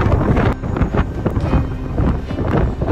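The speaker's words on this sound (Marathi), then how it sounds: "वारा इतका आहे तर आवाज पण येत नाही, काही येत नाही. भयानक वारा आहे." Loud, continuous wind buffeting the microphone on a Sahyadri mountain range near Nageshwar temple, Vasota, a rough roaring rush with gusty swells throughout and no voices.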